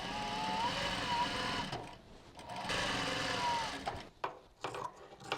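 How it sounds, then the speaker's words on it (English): A sewing machine stitches a rucksack pocket onto the top piece in bursts of steady whirring, pausing and restarting, with faint handling noises in the gaps. "I'm just going to sew it to the top piece."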